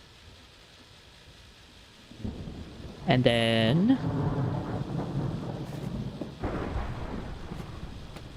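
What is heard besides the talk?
thunderstorm in a video game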